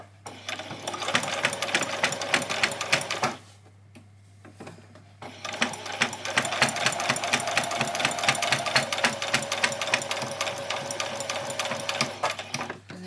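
A sewing machine stitches fabric for fairy wings with elastic, running in a rapid steady chatter, pausing briefly, then resuming for a longer continuous run at close range.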